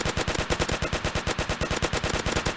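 Machine-gun fire from the Roblox game Alien Defence rattles in a fast, evenly spaced burst of loud shots that never stops.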